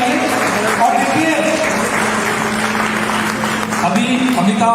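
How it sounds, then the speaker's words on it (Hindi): Studio audience applauding during an Indian talk show on pub culture, a steady dense wash of clapping lasting throughout, with a voice also talking over it. "तालियां थोड़ी जोर से बजनी चाहिए।"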